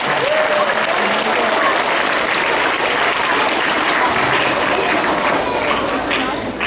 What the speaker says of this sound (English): giving another round of applause